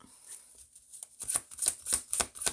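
Tarot cards are shuffled close up: a quiet pause, then a run of about seven quick, crisp riffling bursts at an uneven beat, with no talking.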